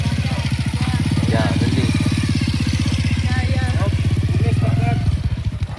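A motorcycle engine runs close and loud with a steady low throbbing as the clutch is let out and throttle eased on during a riding lesson, keeping a constant drone before a slight change near the end, while someone speaks briefly over it.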